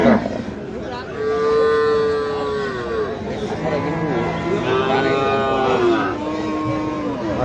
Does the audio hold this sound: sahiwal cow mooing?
yes